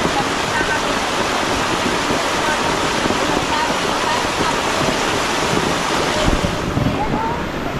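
Floodwater from overflowing rivers in Talisay rushes over a road in a steady, loud, continuous roar that holds across the whole stretch, with wind buffeting the microphone.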